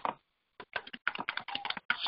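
Someone types code on a computer keyboard, close and quiet, with brisk bursts of key clicks separated by short pauses and no speech.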